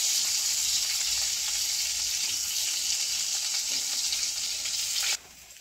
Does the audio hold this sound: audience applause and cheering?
no